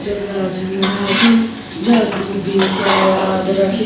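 Eggplant slices fry in a pan with soft sizzling beneath clattering utensils scraping and knocking on the cookware, close by, while a faint voice speaks in the background.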